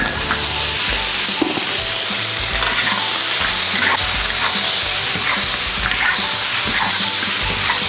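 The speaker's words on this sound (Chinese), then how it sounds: "大鹅下锅。" Chunks of goose tossed into a hot wok with lard, Sichuan peppercorn, chili bean paste and garlic, a loud steady sizzle with scraping stir strokes running throughout, no voices.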